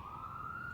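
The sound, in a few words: emergency vehicle sirens in the city background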